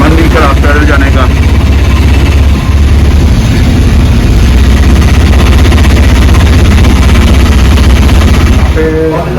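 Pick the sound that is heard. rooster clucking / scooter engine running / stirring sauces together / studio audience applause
scooter engine running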